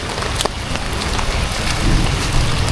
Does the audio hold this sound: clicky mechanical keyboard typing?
no